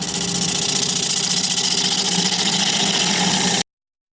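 Wood lathe spinning a spalted maple bowl blank at 880 RPM, a steady dense mechanical whir with constant rumble and hiss, loud and unbroken, cutting off abruptly near the end.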